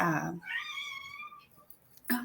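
A domestic cat meows in a drawn-out, rising-and-falling call, fairly close and clear, followed by a quieter gap and then a brief vocal sound at the end.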